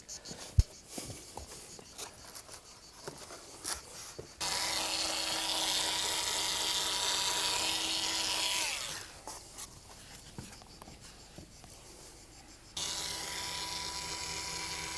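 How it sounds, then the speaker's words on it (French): An electric cutter slices through a ground mat while a Waterair kit pool is being installed, its motor buzzing in two long steady runs separated by quieter rustling and handling. "L'idéal, je vous le dis tout de suite, c'est cutter électrique ou ciseau électrique"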